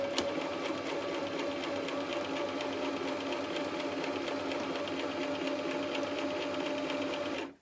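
A sewing machine stitches lining fabric at a steady, fast, even mechanical whir with a rhythmic needle chatter, running continuously for several seconds before stopping abruptly.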